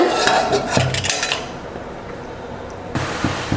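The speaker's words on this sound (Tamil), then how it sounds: "நான் மூடி போட்டு மூடிடலாங்க." Metal clanks and clinks as a lid is set in place and closed on a pressure cooker, followed by quieter handling noise and another clank at the end.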